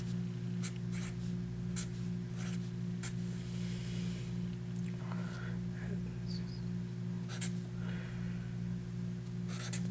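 Handwriting on paper while working an algebra exam review problem makes soft scratchy pen strokes in irregular short bursts over a steady low electrical hum, with occasional faint taps.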